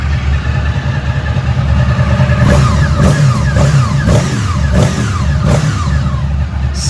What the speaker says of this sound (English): Snappy motor.